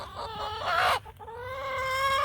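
Chickens clucking and murmuring nearby, a steady run of throaty calls with a brief pause midway, no one talking.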